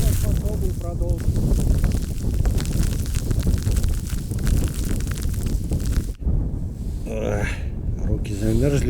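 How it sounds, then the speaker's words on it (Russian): Strong wind roars across a frozen lake during a snowstorm, a loud, steady buffeting rush that fills the whole stretch, briefly dropping away near the end before gusting back. "Ветер сильный."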